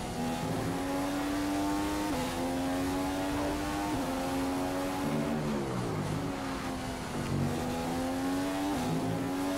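A Formula 1 car engine in the F1 2015 racing game at the Russian Grand Prix, revving loud and continuous with steady high-pitched drone, repeated upshifts and brief dips as the car brakes and accelerates, heard alone without talk.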